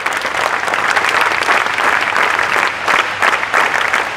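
Students at a school kabaddi tournament inauguration clap together in loud, dense applause that holds steady for several seconds, a large group close by with slight rhythmic surges.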